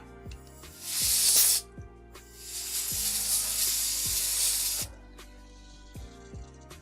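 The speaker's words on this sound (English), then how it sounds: "Just to give all those connectors a quick little spritz." Cleaning spray is spritzed onto the connectors of a Nintendo 64 console in two bursts, a short sharp hiss followed by a longer steady one, close and fairly loud over a faint background hum with soft clicks.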